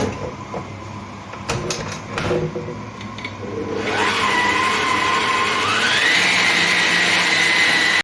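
Electric mixer or blender whirring as condensed milk is mixed into a mixture, a steady loud motor hum that starts after a few seconds of clatter and climbs in pitch as it runs.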